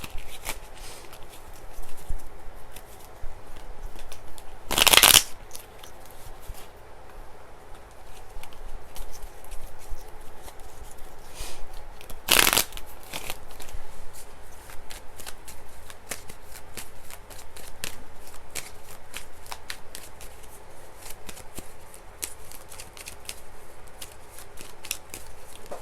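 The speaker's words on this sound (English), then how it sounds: "I have to keep shuffling until it feels right." Tarot cards are shuffled over and over in a quiet room, a soft continuous riffling and flapping with a couple of sharper snaps along the way.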